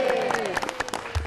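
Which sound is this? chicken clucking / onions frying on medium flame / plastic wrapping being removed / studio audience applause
studio audience applause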